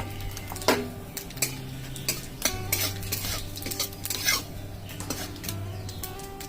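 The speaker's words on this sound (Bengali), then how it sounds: "এবার জিরে শুকনো লঙ্কা ফোড়ন দিয়ে দিলাম।" Cumin seeds and dried red chillies tempering in hot oil in a pan for a Bengali bean and fish curry, a steady sizzle broken by repeated scraping stirs and clinks of a metal spoon against the pan, with no talking.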